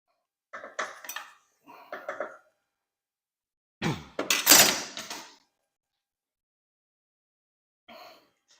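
A metal ladle clinks and scrapes against a pot while serving tomato soup, several short bursts of clatter separated by quiet gaps, close and clear, with no voices.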